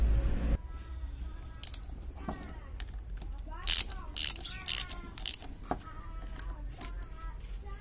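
Bolts are fitted on the power steering of a Mitsubishi L300 diesel in a workshop, with a series of metallic ratchet clicks and clanks, some sharp and close, while a voice talks nearby.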